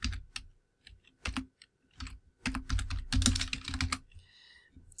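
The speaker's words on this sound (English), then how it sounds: "So I'm going to type in my topic." Someone types a search topic on a computer keyboard, with close, quick irregular bursts of key clicks that thicken into a fast run before a brief pause.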